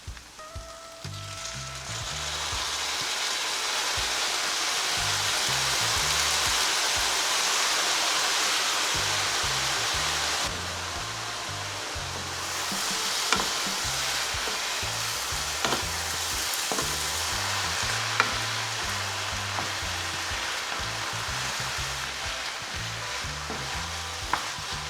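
Sauce poured into chicken chow mein stir-frying with ramen noodles, a loud rushing sizzle swelling over several seconds, then continued frying hiss with scattered clanks of stirring, no voices.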